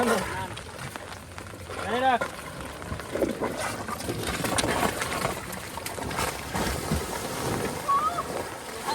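A boat moving fast on a rain-swollen Sundarbans river, with rushing water and wind noise throughout and a person talking over it.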